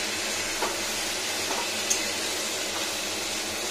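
Vegetables sautéing in raw mustard oil in a pan for a bori sukto, a steady close sizzle with a few soft stirring clicks and taps. No speech.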